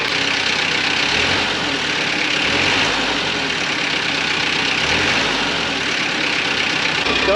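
A cheap left-hand-drive diesel mini truck idles steadily after an easy start, a loud continuous rattling engine drone with a faint rhythmic low pulse and no talking.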